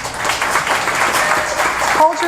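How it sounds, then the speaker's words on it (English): Audience applause at a town hall meeting, a steady wash of clapping across the short clip with a voice briefly speaking near the end. "Hold your applause till the end."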